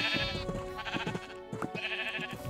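Sheep bleating in the Minecraft video game, several short, close, loud bleats following one another over a steady game background, with no talking.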